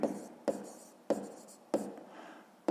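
A pen writes on paper while a fifth-grade math exercise is worked out. Close, dry scratching strokes repeat about every half second, each beginning with a crisp tap, with no voices.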